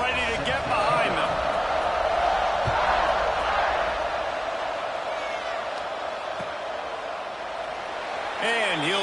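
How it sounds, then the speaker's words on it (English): Video game stadium crowd in College Football 26 roars steadily as the teams line up for the kickoff, a dense, sustained wall of cheering heard alone throughout with brief swells near the start and end. "They're set to kick it off, and this crowd now ready to get behind them."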